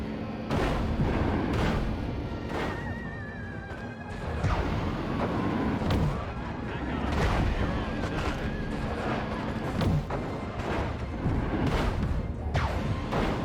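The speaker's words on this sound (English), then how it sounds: "Now there's too much shooting at me." Sustained barrage of gunfire aimed at the player in Destroy All Humans! remake on PC, dense crackling shots and booms layered over game music and effects throughout, steady and loud.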